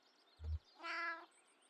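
A cat's single scolding meow in the Kentucky Route Zero video game, a clear drawn-out call that follows a short low thump, with quiet room tone around it.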